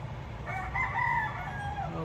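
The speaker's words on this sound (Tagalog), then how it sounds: "Pasensya na kayo sa manok ng kapatid ko." A rooster crows once in the distance, a faint drawn-out call over a low background hum.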